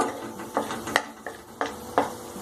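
Turmeric root frying in oil in a pan for a lime chili pickle, a quiet sizzle punctuated by about six distinct stirring clinks and scrapes at uneven intervals, close and without talking.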